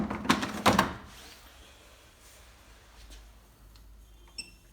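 The detergent drawer of a Siemens iQ300 8 kg washing machine is pushed back into place, with two quick close knocks near the start and then quiet handling.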